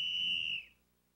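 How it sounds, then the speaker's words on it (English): A referee's whistle on the ice at a hockey game sounds as one sustained, shrill blast that stops abruptly, leaving near silence. "On the ice, when the referee blew his whistle,"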